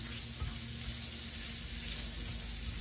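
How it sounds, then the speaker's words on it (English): Onion sautés in hot bacon fat in a pan, giving a steady, close, even sizzle throughout with no talk over it. "We're going to saute this onion to a translucent color."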